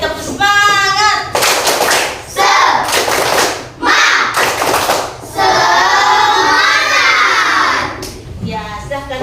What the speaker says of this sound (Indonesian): 1, 2, mulai, tepuk semangat.